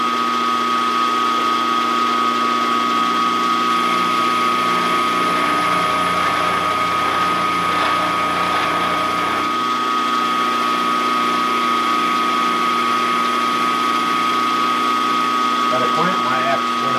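A small lathe takes a heavy cut on cross-slide stock, a continuous loud motor whine with steady tonal hum and a shift in pitch partway through as the cut changes, and someone talks over it.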